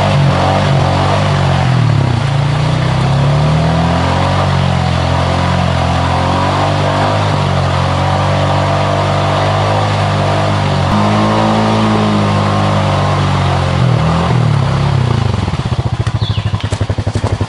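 Honda Pioneer 500 UTV stuck in a rut, engine held at a loud steady high rev with wheels spinning, pitch wavering slightly, then clattering and dropping off near the end.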